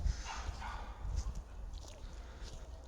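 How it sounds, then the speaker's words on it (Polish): Faint, distant dog barks and yips carry through outdoor air with low rumbling background noise. "Czy to nie szczekają nasze psy?"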